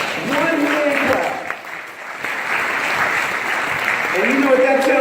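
Clapping from a church congregation during a worship service, a dense steady patter of many hands mixed with a voice speaking over it throughout.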